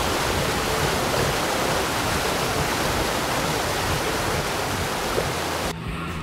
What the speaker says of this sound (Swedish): Vattenfall är inte så stort eller mäktigt